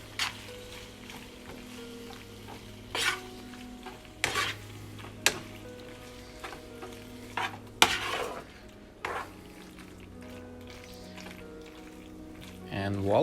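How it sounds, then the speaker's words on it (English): Macaroni is stirred in tahini sauce in a pan on a stove, with soft sizzling under intermittent scraping and clinks of a utensil against the pan. A person speaks at times. "So here we're gonna give it a stir"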